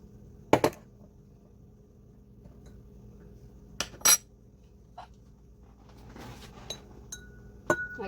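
A metal spoon clinks against a container while stirring hot gel wax for a layered candle, with several sharp, isolated taps and chimes spaced across quiet pauses, close and clear.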